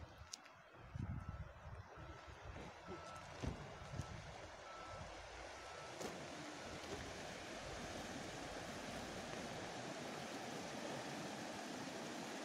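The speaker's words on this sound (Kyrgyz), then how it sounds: "Мынакей Чаткал тоосунан келген дарыя, Солома деген дарыя экен." The Soloma river, coming down from the Chatkal mountains, rushes along as a steady broadband roar of flowing water, loud and continuous throughout, with a few brief knocks early on and no speech.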